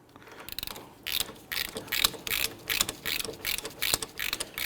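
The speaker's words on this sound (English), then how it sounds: "we'll go ahead and pop our ratchet on there" A ratchet tightens the front brake caliper bolts on a 2011-2015 Kia Sorento during a wheel bearing and hub replacement, giving repeated bursts of close, crisp clicking in an uneven rhythm.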